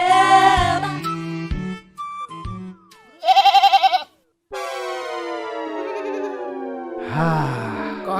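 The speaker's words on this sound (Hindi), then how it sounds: "ये बकरी का बच्चा उन्हें चेप देता हूं।" A baby goat bleats in wavering cries, with longer calls in the middle and near the end, amid comic Hindi talk between other sounds.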